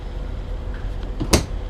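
A cabinet door closes with a single sharp knock inside a Sunseeker Portofino 47 motor yacht, heard near the end over a low steady background hum.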